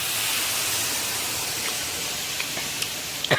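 Soy sauce poured into a hot pan, giving a loud, steady, broad sizzling hiss throughout with a few faint clinks near the end.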